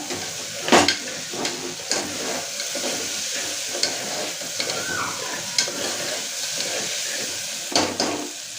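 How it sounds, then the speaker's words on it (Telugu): Green chillies frying in oil in a pan, a loud continuous sizzle broken by repeated scraping and knocking of a spoon as they are stirred. "మిరపకాయలు కూడా వేసి బాగా వేయించుకోవాలి"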